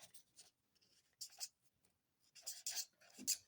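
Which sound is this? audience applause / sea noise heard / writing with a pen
writing with a pen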